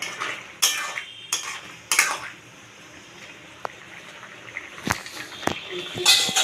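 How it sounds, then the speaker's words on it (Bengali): A pot lid is lifted and a spoon stirs chicken with kabuli chickpeas in a pot, making sharp metallic clanks and scrapes in separate bursts between quieter stretches of soft stirring. "ঢাকনাটা এবার খুলে দেখবো একটু নেড়ে চেড়ে নিই"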